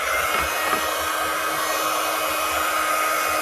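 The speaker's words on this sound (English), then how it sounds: "My poor old heat gun." An old heat gun blows hot air in a loud, steady, close-up rushing roar that stays level throughout with no voices.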